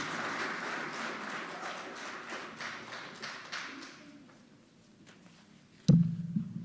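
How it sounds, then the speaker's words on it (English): Applause from an audience welcoming a poetry performer at a book launch, dense broadband clapping for about four seconds that fades out, followed by a sudden louder knock or thump near the end. "A round of applause, please,"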